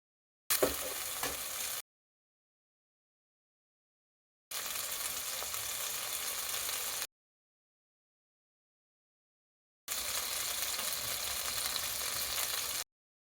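Masala macaroni pasta is stirred with sauce in a pan, heard as three separate bursts of close, steady sizzling and scraping with silent gaps between them.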